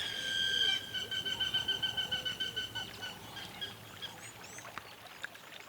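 Hammerkops call near a lonely hippo wallow in the Kalahari waterways: a burst of high, rapid chattering calls at first, then softer scattered chirps over a watery background.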